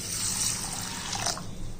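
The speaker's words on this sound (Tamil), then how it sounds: "இதில் தண்ணி ஊற்றிக்கிடுவோம்." Tap water pours steadily into a bowl of moong dal for washing, a continuous close splashing and gurgling stream with no talk.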